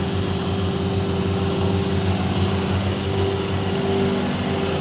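An older Peterbilt semi truck with an 18-speed transmission idles and rumbles steadily nearby, a continuous low engine drone with harmonic hum, no one speaking.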